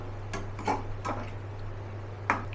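A lid set onto a cooking pot of chilli chicken on the stove, with a few short metallic clinks and taps spread across the moment over a steady low hum, fairly close and alone without talk.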